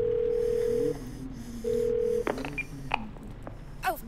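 A phone placing a call in the video game 12 Minutes, two steady electronic tones followed by a few short beeps and faint clicks, close and clear with no talk.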